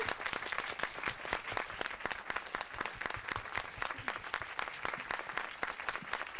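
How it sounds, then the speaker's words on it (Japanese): Sustained audience applause at a Tokyo International Film Festival screening Q&A for Kubo and the Two Strings with LAIKA guests, many crisp individual claps blending into a steady, even stream. "So please give a big hand."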